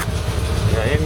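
A project car's engine idles unevenly and low, sounding rough on stale petrol, heard close up for about a second with a voice talking over it.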